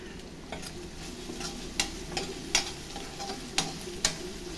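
Curry leaves and small onions frying in hot oil for chicken biryani, a steady close sizzle broken by several sharp spoon clicks against the pot.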